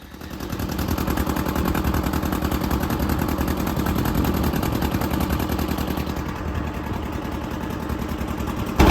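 A boat engine on the Bidyadhari River in the Sundarbans chugs loudly and steadily as the boat pulls away from the landing, a fast rhythmic putter running close by for the whole stretch.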